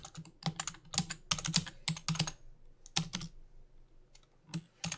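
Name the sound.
pressing Shift and Control keys on a computer keyboard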